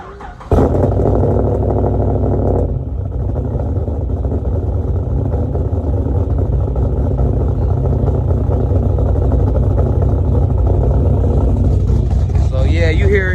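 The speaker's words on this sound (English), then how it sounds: "Get that cold start jumping off so I can let y'all hear what the cam sound like." 2010 Chevrolet Camaro SS with a stage 4 cam cold starting: a quick crank catches into a loud, close, lumpy idle with a choppy rhythmic lope that holds steady throughout.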